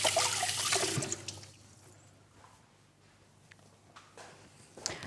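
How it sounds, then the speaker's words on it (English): Tap water running while someone washes their hands at home, a splashing gush at the start that dies away quickly, followed by faint drips and small knocks. "Wash my hands."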